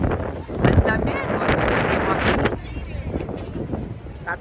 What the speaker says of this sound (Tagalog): Maganda pa rin naman, kaso napakalakas ng hangin.